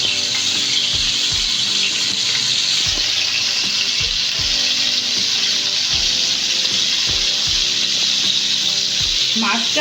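Shol fish frying lightly in oil in a pan, a loud, steady hissing sizzle that runs throughout with faint low thumps underneath, with no talk.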